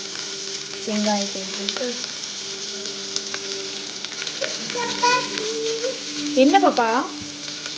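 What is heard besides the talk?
onions sautéing in pan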